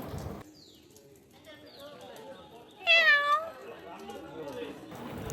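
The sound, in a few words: cat meowing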